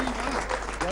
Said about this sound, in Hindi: एक बार तालियों के साथ शुरुआत करते